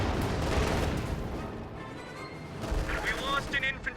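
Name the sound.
artillery fire in a video game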